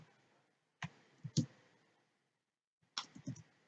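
Computer keyboard keys click in a few short clustered bursts separated by silent pauses, quiet and close, with no voices.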